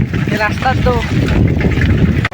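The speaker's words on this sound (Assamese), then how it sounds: "কি মজা বতাহ দিছে" Wind gusting across open wetland beside the Puthimari river, a steady loud rush of air buffeting the microphone while people talk over it.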